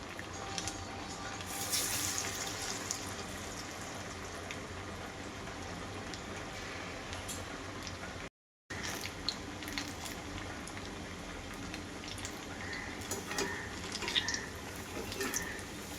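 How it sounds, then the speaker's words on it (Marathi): Dal vadas deep-frying in hot oil give a steady, dense crackling sizzle that runs throughout, with a brief silent break midway and a few sharper pops near the end. "तर बघू शकता मस्तपैकी वडे असे वर तळून यायला लागले."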